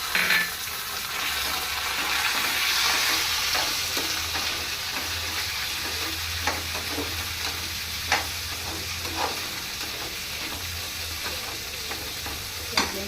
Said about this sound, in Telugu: ఈలోగా ఉప్మాది పోపు చేసుకున్నాం, వేగిపోతుంది కదా